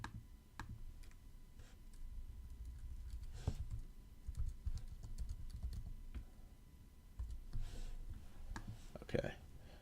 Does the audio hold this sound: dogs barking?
no